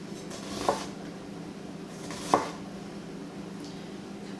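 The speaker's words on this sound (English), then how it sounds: "we're just going to go through and make some thin slices" A knife slices vegetables into thin pieces on a cutting board, giving two distinct soft chops against a quiet room with faint background hum and no speech.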